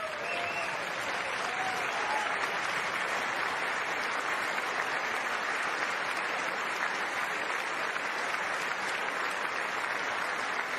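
Members of Congress applaud during the State of the Union address, a dense, sustained wave of clapping from a large chamber crowd that holds steady and loud from start to finish, with no speech over it.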